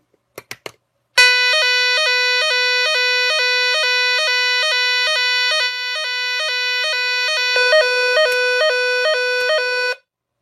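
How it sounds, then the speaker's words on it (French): A Nugelec Type 4 fire alarm siren being tested sounds loud and close with a steady, rapidly pulsing electronic tone that lasts about nine seconds and then cuts off abruptly, after a few brief clicks. "Par contre la sirène va sonner encore pendant 5 minutes."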